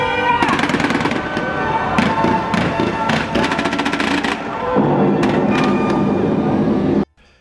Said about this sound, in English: ended with some spectacular fireworks